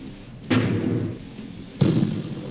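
In the HoloLens game Holo Tankz, a tank cannon fires at a crate twice, each shot a sudden muffled boom followed by a short rumbling decay.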